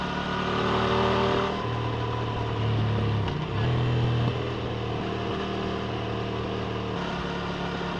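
A CFMoto 800 MT-X motorcycle engine drones steadily while the bike overtakes on a German road. The engine tone rises briefly under throttle, and heavy wind rush covers the clip with no talking.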